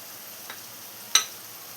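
Chopped carrots sizzle in a pan for Schezwan egg fried rice: a soft, steady hiss broken by two brief clicks of stirring.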